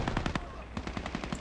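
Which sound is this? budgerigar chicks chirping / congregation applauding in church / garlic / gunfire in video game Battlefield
gunfire in video game Battlefield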